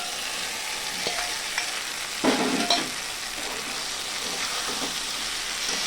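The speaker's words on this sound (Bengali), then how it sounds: "সয়াবিনটা দিয়ে আমি মশলা দিয়ে সয়াবিনের সঙ্গে একটু মিশিয়ে দিলাম নাড়াচাড়া করে।" Fried soybeans stirred into masala frying in a pan, giving a steady close sizzle with a louder burst of scraping and stirring partway through, with no talking.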